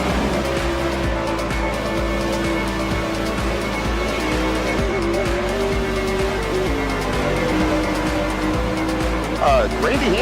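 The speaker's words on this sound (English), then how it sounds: "Forward wide into turn one there, KR. You're right, cars everywhere" Sprint cars race on a dirt track in a racing video game, a dense steady engine roar with shifting whines filling the scene throughout, while a commentator talks over it.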